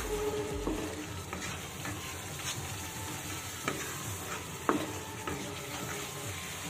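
Ground spices sautéing in hot oil in a pan, a steady close sizzle with scattered stirring scrapes and a couple of sharper clinks, no voices.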